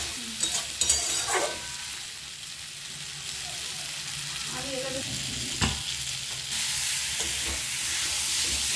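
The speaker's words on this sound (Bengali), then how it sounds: "মশলাগুলো দিয়ে অল্প অল্প করে কষাতে হবে" Spices are stir-fried with eggplant and boiled potato in a pan, giving a close, continuous sizzle with occasional spatula scrapes and stirs; the frying hiss swells louder near the end.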